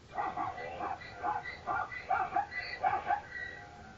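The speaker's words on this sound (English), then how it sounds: "Here's a zebra sound." Zebra call played through a Google Home smart speaker, heard as a series of about eight short, rhythmic barking yelps repeated over several seconds at moderate loudness.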